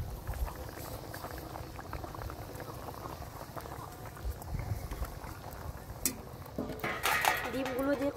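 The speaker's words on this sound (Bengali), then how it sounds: "দেখুন ডিমের কারিটা তো খুব সুন্দর ফুটছে" Egg curry bubbling in a pot, a soft continuous simmer with faint clinks of utensils and pot near the end.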